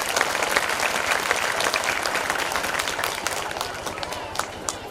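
An audience applauding the parents at a school annual function, loud, continuous clapping from a big crowd, steady throughout the short stretch.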